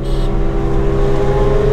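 Kawasaki Z900 motorcycle riding at over 100 while racing an Apache bike, with an ABS sensor fault, giving a loud, steady engine drone and wind roar held at high speed throughout.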